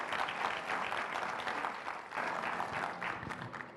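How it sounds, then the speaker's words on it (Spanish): A church congregation in Mexico applauds during a sermon, offering steady crowd clapping that fills the room throughout, with dense overlapping claps swelling slightly in waves. "denle un aplauso a Dios"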